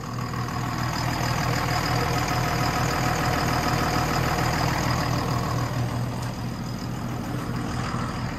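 A steady, low engine idle at 800 RPM runs continuously at an even pace, close and fairly loud, with no voices over it; a high-hour engine with 12,500 hours of use.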